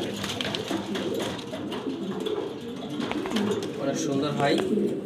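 A female Maltese pigeon gives repeated deep, burbling coos at close range, moderately loud, over a busy background of other birds and light rustling.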